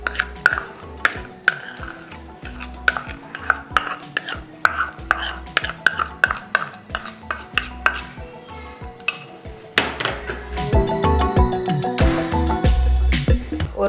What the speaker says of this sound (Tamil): சுகர் கரையிற அளவுக்கு நம்ம நல்லா கலந்துக்கிட்டே இருக்கலாம்.